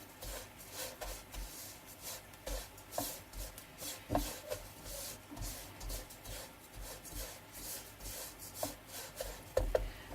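Edible gum (gond) roasting in a pan for gond laddu, giving a faint, steady scraping and rubbing texture with occasional soft clicks of stirring, no voice heard.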